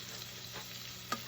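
Ground beef frying in a pan, a faint steady sizzle with a couple of soft scraping strokes as it is chopped up, and a short clink near the end.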